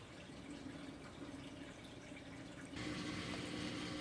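Pumped water pours steadily into a weir, a constant wash of flow that thickens and grows louder partway through as a second pump adds volume.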